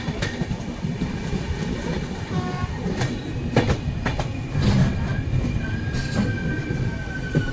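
A goods train rolls past on broad gauge track at a station, with a steady loud rumble of wagons, rhythmic wheel clatter and brief squeals of wheels against rail throughout.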